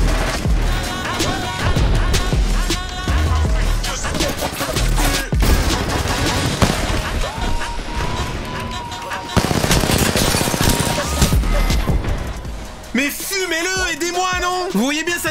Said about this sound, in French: Vous voyez bien, ça tire derrière